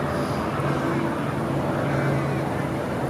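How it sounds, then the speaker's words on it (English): A low, steady drone of a helicopter overhead, continuous and moderately distant, with faint background noise. "there's a helicopter"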